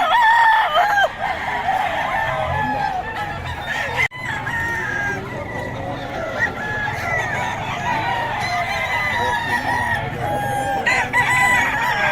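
Gamecock roosters crow and chickens cluck close by, several birds calling over one another against a busy outdoor background.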